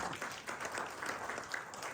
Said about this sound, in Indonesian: Tepuk tangan dong untuk Tuhan